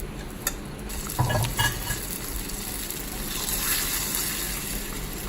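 Spices tempering in hot oil for siru keerai kadaiyal sizzle and crackle, with a couple of louder splutters early on, then a steady fizz close by and with no talking.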